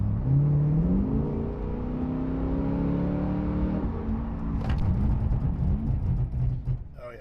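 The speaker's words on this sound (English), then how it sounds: "So we can give it just one more nice hard brake and see how that grabs." A C8 Corvette fitted with Hawk Performance brake pads slows hard from speed: a loud, steady engine drone drops in pitch as the car decelerates, then settles into a rougher rumble with road and tire noise near the end.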